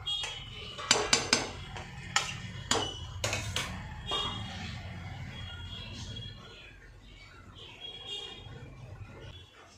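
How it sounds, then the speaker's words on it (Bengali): A spoon clatters against a metal pot as puffed rice ghonto, just sweetened with sugar, is stirred, giving a few sharp metallic knocks early on and then a quieter steady scraping over a low background hum. "ভালো করে নেড়ে চেড়ে আমি ঢেকে বসিয়ে দেবো"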